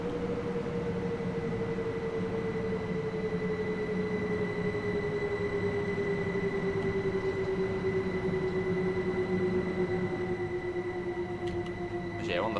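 A Class 171 diesel train in Train Sim World 6 on the East Coastway line arrives at a station, heard from outside as a steady engine drone with a slowly falling tone and rail rumble throughout.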